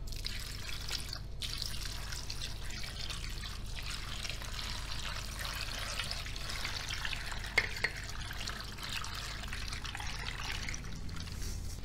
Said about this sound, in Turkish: Hazırladığım turşu suyunu sebzelerin üzerine döküyorum.